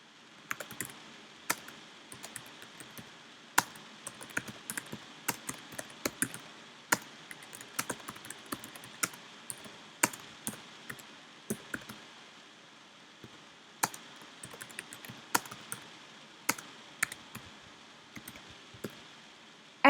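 Steady computer keyboard typing with irregular, crisp key clicks and a few louder taps, close and clear against quiet room tone, with no talking.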